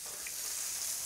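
Blackened ahi tuna sizzles on a Blackstone griddle, giving a constant bright hiss close by with no voices over it.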